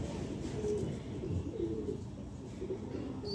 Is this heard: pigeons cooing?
yes